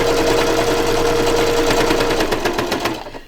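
A sewing machine stitches through the pages of a ring-bound December Daily album, giving a loud, steady mechanical whir with rapid needle pulses that rises toward the end and then stops.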